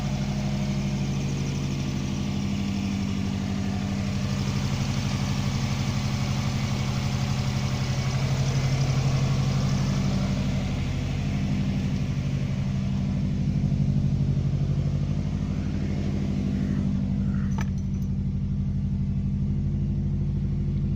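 A 2.0 turbo Subaru Impreza Classic GC8 RB5 with 57k miles, in excellent condition, idles smoothly and evenly, a steady close engine rumble that holds unchanged for about twenty seconds with no voices.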